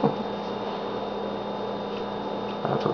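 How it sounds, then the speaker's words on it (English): A laundry machine running in the next room makes a steady low mechanical hum and drone throughout, faint and continuous, with a brief louder bump near the end. "If you're wondering what that noise is, that's a laundry in the next room."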